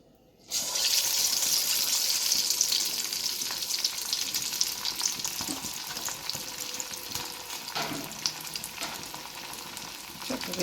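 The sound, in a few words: chicken pieces deep frying in hot oil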